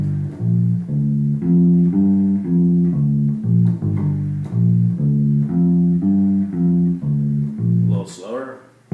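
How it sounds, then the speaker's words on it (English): Electric bass line over a one-chord groove, a repeating riff of sustained low notes with a quick ghost note slipped in just before the downbeat, loud and close, ending in a brief squeak of fingers on strings. "just before you hit beat 1, do what's called a ghost note into it."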